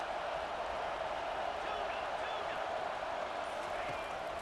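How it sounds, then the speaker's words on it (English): Stadium crowd in a college football video game, a dense continuous roar of cheering fans filling the whole stretch at steady loudness, with no clear talk on top. "Listen to this crowd just shaking the girders of this place, trying to help their defense."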